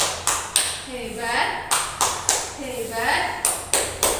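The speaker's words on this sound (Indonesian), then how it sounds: "kita beri tepuk hebat" A class doing a rhythmic clapping cheer, groups of sharp claps in a repeating pattern with chanted voices between them, close and lively.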